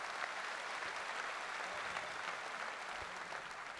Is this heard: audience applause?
yes